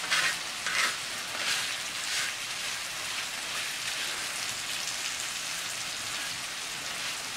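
Pork skin frying into crackling, giving a dense, even hiss of hot fat that holds steady, with a few sharper spatters near the start.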